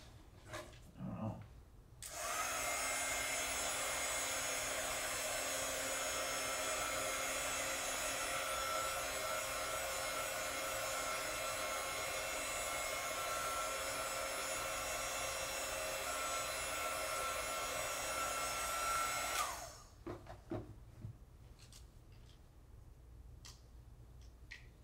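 Hair dryer blowing to dry a watercolor card, holding a loud, steady whirring roar for about seventeen seconds, with brief handling clicks just before it switches on and right after it stops.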